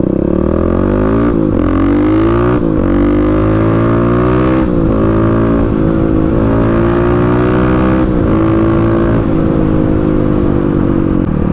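Kawasaki KLX351 motorcycle tuned to 35 hp, its engine revving and settling in waves with exhaust burbles and pops as throttle rolls off, loud and close throughout with no talk.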